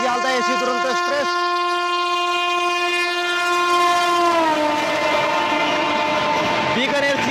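A Bikaner–Sealdah AC Duronto Express sounds its horn repeatedly while overtaking the Amrit Bharat Express at Barthana station, several short blasts then one long sustained honk close by, with wheel rumble and a voice talking.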